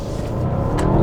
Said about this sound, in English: All right, driving the Panamera Turbo. This should be an exciting event here.